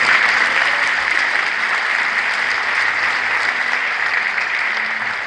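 A large congregation at a 2021 joint Easter service of Korean churches applauds visiting culture ministry officials, a loud, dense wash of clapping that stays steady and full for the whole stretch.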